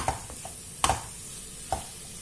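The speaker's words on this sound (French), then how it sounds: "Je mélange tout ça." A spoon stirs curry powder into chicken curry ingredients in a pan, giving three quick scraping clinks against the pan over a faint sizzle.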